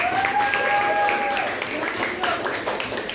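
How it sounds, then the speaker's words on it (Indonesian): Students in a crafts classroom applaud a group that made eco-print products, a steady wash of clapping from many hands with voices and chatter over it. "Tepuk tangan untuk kelompok kinestetik"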